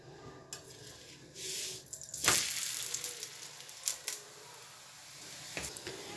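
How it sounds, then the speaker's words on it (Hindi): Methi paratha cooking in oil on a pan gives off a faint, quiet sizzle with a few brief louder crackles and hisses spread through the clip. "1 टेबलस्पून मैं इस पर ऑयल डालूँगी और इसकी साइड चेंज कर दूँगी।"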